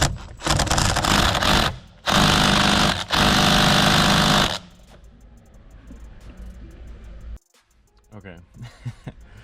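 A Milwaukee impact gun loosens a 10mm steering wheel bolt on a Civic Type R, giving three loud, rattling hammering bursts close by. Quieter handling noise and some speech follow.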